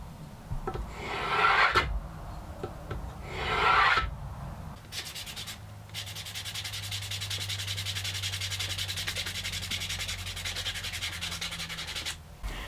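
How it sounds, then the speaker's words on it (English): Wood is sanded by hand in long rasping strokes while refining the fit of a wooden marking gauge, two bursts followed by a steadier stretch of rhythmic rubbing, close and clear. "Now I'll just do a little bit of final sanding to refine the fit."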